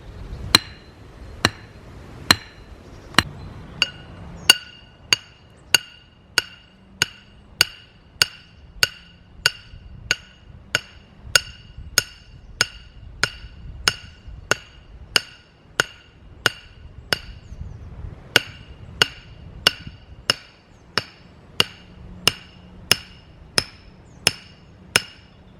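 A hammer drives woodland step stakes into the ground with about thirty-five loud, sharp blows struck in a steady, even rhythm, each landing with a ringing crack and no voices between them.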